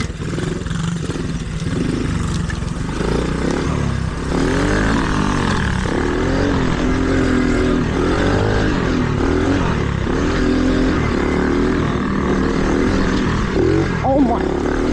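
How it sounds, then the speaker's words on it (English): A 110cc mini bike engine buzzes and revs while being ridden on dirt trails, with its pitch rising and falling as the throttle changes, close and loud the whole time, with voices audible now and then. "Me on the mini bike 110."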